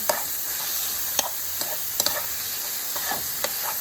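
Jerk pork sizzles steadily in a pan as jerk spice is stirred in, with a constant frying hiss and occasional scrapes and taps of the utensil, close and loud.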